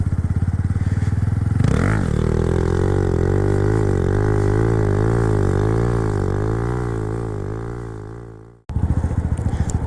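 Loud Honda Grom motorcycle engine held at high revs during a long stand-up wheelie, the pitch wavering steadily for several seconds, then dropping away before a quick choppy idle returns.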